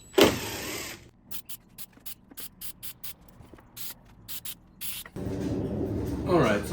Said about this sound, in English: Now we're gonna have to undo it and spray on the same lip but inside.